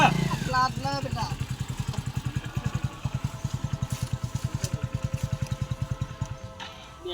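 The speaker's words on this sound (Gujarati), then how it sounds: "આવી ગયો બાઈક" A motorcycle arrives and idles nearby, its engine chugging in a steady, rapid pulse under people talking, the beat holding evenly through the clip.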